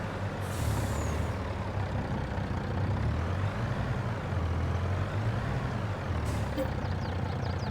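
A truck's air brake hisses in Farming Simulator 22, two short sharp releases standing out over a continuous low engine rumble.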